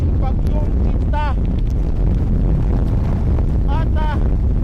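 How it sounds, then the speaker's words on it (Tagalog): Strong typhoon winds of Typhoon Quinta in Calapan City, Oriental Mindoro, roaring and buffeting the microphone loudly and without a break, with a person talking over the gusts. "hindi nakakayanin tumayo sa lakas ng hangin na dala nitong si Bagyong Quinta."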